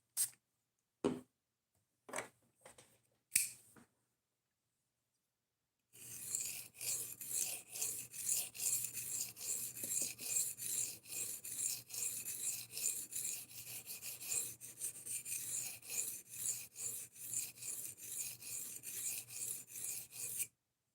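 A knife blade is pulled across a sharpening plate, starting with a few isolated scrapes and then a long run of quick, regular rasping strokes, close but fairly soft, with no talking.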